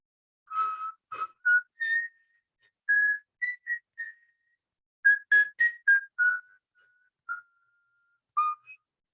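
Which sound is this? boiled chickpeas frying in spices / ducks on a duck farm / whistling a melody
whistling a melody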